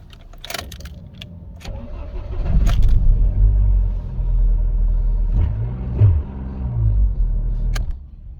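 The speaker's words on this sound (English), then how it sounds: "Now let's try and start it again, see whether it starts any easier than it did do before." MG ZS car with a starting problem, heard from close by as keys rattle, then the starter cranks and the engine catches with a low rumble that rises and settles.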